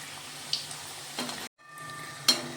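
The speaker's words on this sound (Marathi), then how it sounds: "तर आता आपण झाऱ्याने हलवून घेऊया." Wheat-flour and jaggery kapnya fry in oil while a slotted spoon stirs and flips them, giving a soft sizzle with a few clinks and scrapes and a brief silent gap in the middle.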